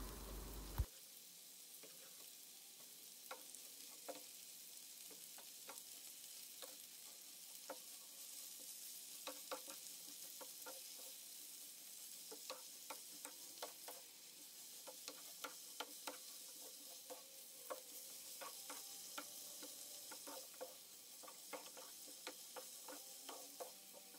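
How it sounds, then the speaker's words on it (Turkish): Chard leaves sautéing with onions in a pan give a soft continuous sizzle, broken by frequent sharp taps and scrapes of a spoon stirring, quiet and close with no voices. "Pazı yapraklarını azar azar ekleyerek kavuruyorum"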